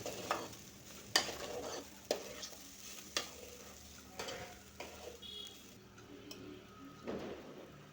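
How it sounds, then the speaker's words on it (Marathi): Rice is stirred and sautéed in a pan for a Kolhapuri mutton thali, with soft sizzling and repeated scraping strokes of a spoon against metal roughly once a second, faint and close, with no talking. "छान परतून घेऊया"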